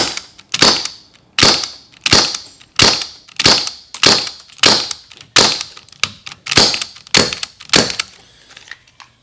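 An MK.23 clone airsoft pistol fires with its suppressor removed: around ten sharp, loud snapping shots at a steady pace, each with a brief metallic ring, close by and with no speech.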